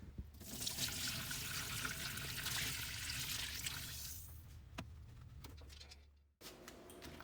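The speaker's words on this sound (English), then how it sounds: "And here's the dirty water from cleaning our bookcase." Dirty water left from cleaning a wooden bookcase rushes and splashes steadily for several seconds, then trails off into a few faint drips and clinks; the sound is fairly quiet and no one speaks.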